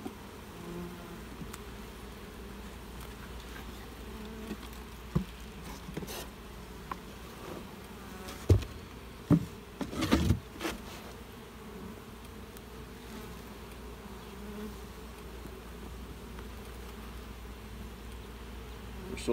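A dense, steady drone of honey bees humming up close in an overwintered nuc hive, with scattered light knocks and taps around the middle.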